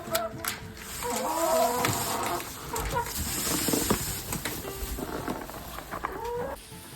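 Hens cluck and croon in short irregular bursts inside a new coop, several birds close together, with scattered scratching and rustling throughout.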